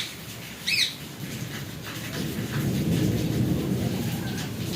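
Steady rain falling on a rooftop with solar panels, a constant hiss that swells louder partway through, plus a brief bird call near the start and no talk.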